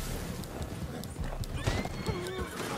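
Horse hooves clip-clop in the game Red Dead Redemption 2 during an online Tumbleweed open race, with a horse neighing near the end over background game noise.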